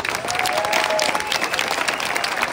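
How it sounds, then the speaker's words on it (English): A large audience at an event breaks into dense, continuous applause, a loud steady wash of many hands clapping together that fills the room. "Give Daniel a big round of applause, please"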